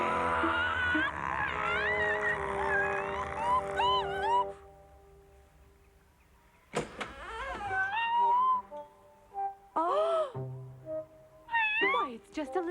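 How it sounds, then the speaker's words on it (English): An animated kitten meows in a rising, wavering series, heard near and fairly loud alongside a cartoon character's voice, with a quiet gap in the middle before more short meows. "Why, it's just a little kitten."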